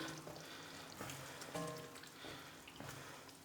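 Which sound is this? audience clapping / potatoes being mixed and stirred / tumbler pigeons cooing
potatoes being mixed and stirred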